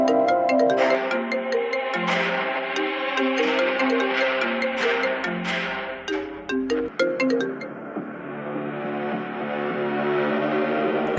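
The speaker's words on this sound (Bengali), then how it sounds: "আবার কে ফোন করলো?" A melodic phone ringtone plays alone for several seconds, a bright repeating tune that changes to a softer sustained tone near the end.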